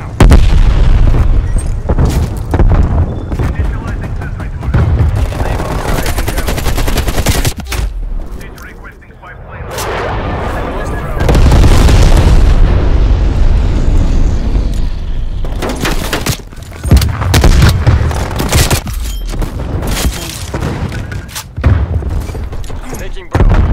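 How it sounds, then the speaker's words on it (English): Loud, dense gunfire and booming explosions from a Black Ops Cold War multiplayer match, including Semtex grenade blasts, with rapid shots and heavy rumbling bursts running nearly continuously and a short lull midway. "Semtex going out."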